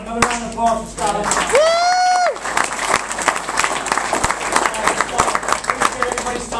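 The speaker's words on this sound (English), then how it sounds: "Another round of applause for Scott" Audience applause at a business event, dense clapping filling the room alongside a whoop and a speaker's voice talking over the crowd as it continues.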